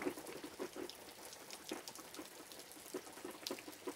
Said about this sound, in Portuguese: E tome chuva e tome água.